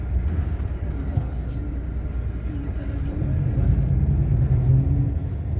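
A car engine rumbles and idles nearby as a vehicle is parked near the mosque at Masjid al-Haram in Mecca, a low steady drone with a slight rise toward the end.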